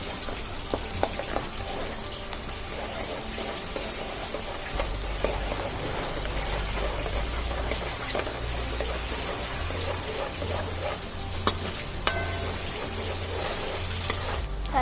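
Onions with ginger-garlic paste sizzling and being stirred in a pan for Andhra-style stuffed brinjal curry, a steady frying hiss with scattered scraping stirs running continuously throughout.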